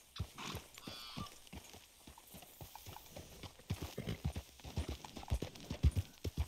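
Horse hooves clip-clop in Red Dead Redemption 2, a steady trotting rhythm that grows louder and more insistent toward the end, with no talk over it.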